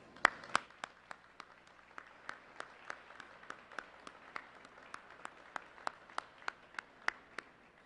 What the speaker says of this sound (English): Please join me in giving our Illinois National Guard a big round of applause